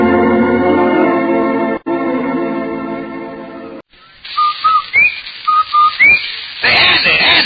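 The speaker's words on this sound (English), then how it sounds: "That whistle. That's the Rinso White whistle." Rinso White advertising whistle from an old-time radio show: a series of short rising and falling whistled notes repeated in quick succession, following a stretch of music.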